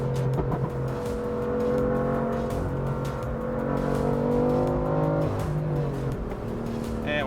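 A tuned 2015 BMW M3 with an MHD tune accelerates hard, its loud engine note climbing steadily through the revs, heard from close by with no talking.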